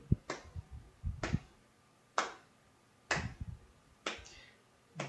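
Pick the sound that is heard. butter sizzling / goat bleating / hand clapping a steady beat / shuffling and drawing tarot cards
hand clapping a steady beat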